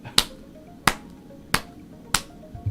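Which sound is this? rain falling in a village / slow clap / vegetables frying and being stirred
slow clap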